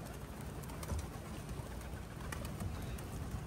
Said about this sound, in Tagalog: Grabe, may mga young birds siguro.